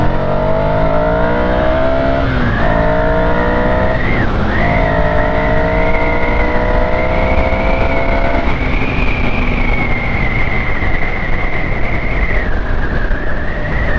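Car engine revving high while driving through roundabouts, loud and close, the pitch climbing steadily through the gears with brief dips at shifts, then holding a sustained high drone with no talk over it.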